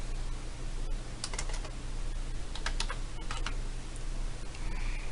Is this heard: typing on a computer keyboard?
yes